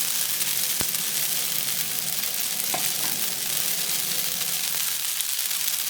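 Blanched spaghetti sizzles in a hot pan for cumin (jeera) spaghetti, giving a steady, close frying hiss throughout with a single sharp click early on.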